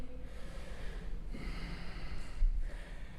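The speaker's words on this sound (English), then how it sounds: "Breathing in and out of your nose." During an interval training workout, someone breathes in and out through the nose, producing soft sniffing inhales and exhales under a faint background hum, with no talking.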